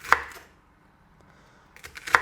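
Okra being sliced on a cutting board: two crisp knife chops, one at the start and one at the end, separated by near silence.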